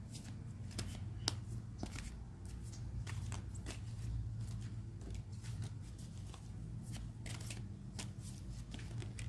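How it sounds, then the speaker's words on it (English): A deck of oracle cards is shuffled by hand, a continuous run of quick riffling flicks and soft taps, close and steady for the whole stretch. "We're going to shuffle until a card flies out and shows itself to me."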